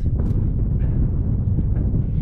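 Strong wind sweeps the Llanberis path up Snowdon in cold November weather, a loud, steady roar buffeting the microphone without a break.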